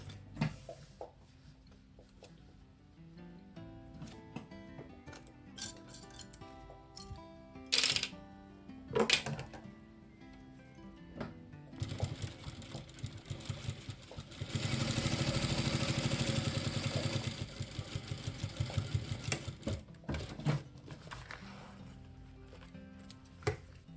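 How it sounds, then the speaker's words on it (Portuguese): Sewing machine topstitching the top edge of a crocodile-textured tote bag, a steady run of needle clatter with uneven pauses and a louder, denser stretch near the middle, close and quiet. "eu vou primeiro pespontar aqui essa parte superior"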